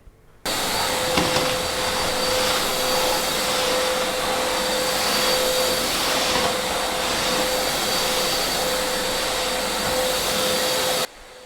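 A vacuum cleaner drones steadily for about ten seconds, a constant loud whine with a steady hum, starting abruptly and cutting off at the end, used as a sound effect in a comedy audio drama.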